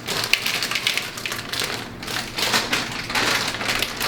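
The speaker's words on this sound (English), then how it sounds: "And now the best part, the chocolate chips are going in." Chocolate chips tumble into vegan cookie dough with a soft, continuous patter of small pieces, like light rain, close by and moderately quiet.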